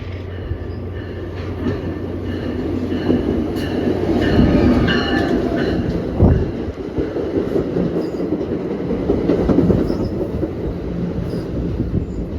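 A commuter train at Summit station in New Jersey rumbles steadily nearby, with wheel squeal and a few sharp clanks from the rails, no talking.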